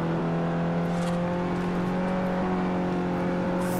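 A car engine runs at full throttle in the racing video game Forza Horizon, a loud, sustained steady drone with a faint whoosh near the end and no talking.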